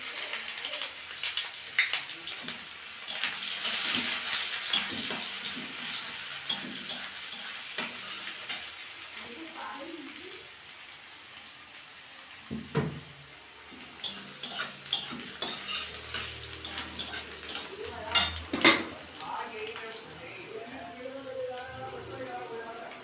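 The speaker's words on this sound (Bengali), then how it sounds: "লঙ্কাগুলো একটু ভাজা ভাজা হয়ে গেছে, এখন আমি একটু পেঁয়াজ, একটা ছোট পেঁয়াজ কুচি করে রেখেছি," Chopped small onion frying with chillies in a pan, a steady sizzle with scattered stirring clinks of a utensil against the pan, some louder scraping bursts toward the end.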